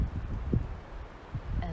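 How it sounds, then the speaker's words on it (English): Wind moving through trees outdoors, a soft continuous low rustle with a few gusty swells, fairly quiet and close to the microphone, no voices. "this is just an amazing synergy of trees dancing with the wind."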